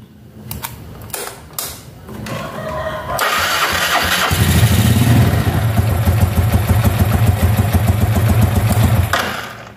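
A Yamaha Lexam motorcycle with sluggish performance and no top speed is started: a few mechanical clicks and cranking bursts, then the engine catches and runs with a steady, loud, close buzzing idle until it cuts off at the end.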